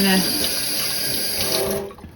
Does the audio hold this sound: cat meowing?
no